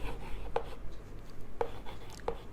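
A teacher writes an equation by hand during a maths lesson, giving a few short, faint strokes spaced irregularly over low background hiss.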